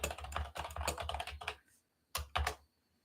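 Fingers type on a computer keyboard in quick bursts of close, crisp key clicks, then pause briefly before a few final taps.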